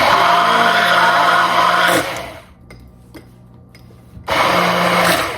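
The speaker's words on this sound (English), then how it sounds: "we're going to put our immersion blender in here. So I'm going to put it all the way down, and we're going to turn it on" A loud immersion blender whirs steadily while blending homemade mayonnaise, cuts out briefly for a quieter pause with faint clicks, then roars back to full speed.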